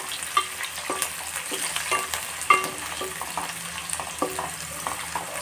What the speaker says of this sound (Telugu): ఇప్పుడు పచ్చిమిర్చి, సిమ్లో పెట్టుకొని వేయించుకోవాలి.